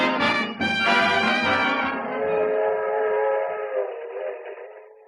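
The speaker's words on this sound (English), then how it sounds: "A suburban railroad station." A train whistle sounds at a suburban railroad station as a radio drama effect, a loud close blast that cuts briefly and then holds a long sustained chord, fading slightly at the end.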